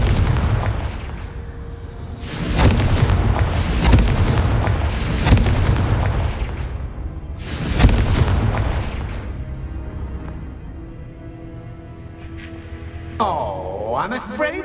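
Confringo fire-spell blasts in Hogwarts Legacy land as a rapid string of heavy, booming explosions with rumbling tails, thinning out toward the end before a swooshing magical sound, with a voice speaking at moments.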